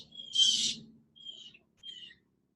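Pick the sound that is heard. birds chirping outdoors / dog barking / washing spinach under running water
birds chirping outdoors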